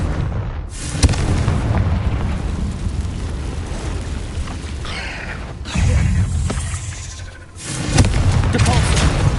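Confringo blasting curse explosions in a Harry Potter video game, heavy booming blasts that rumble loudly through the clip with brief gaps between them.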